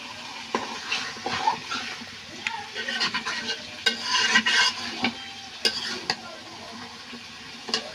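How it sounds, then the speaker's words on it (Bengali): Meat for biryani being stirred and fried in a pan, with a steady soft sizzle under repeated scraping and clinking strokes of a spoon against the pot, close and fairly quiet. "যতক্ষণ মাংসটা সেদ্ধ নেওয়া হচ্ছে ততক্ষণ এভাবে কষাতে থাকবো"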